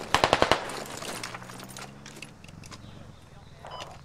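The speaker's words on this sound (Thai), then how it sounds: "แล้วยิงไม่พัก" Rapid burst of machine-gun fire in the military shooter Squad, five sharp close shots in quick succession, followed by lower rumbling engine noise and distant scattered sounds.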